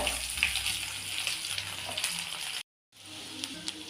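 Onion frying in oil in a kadai for a carrot fry, a steady broadband sizzle filling the clip, briefly cut to silence near the end before resuming.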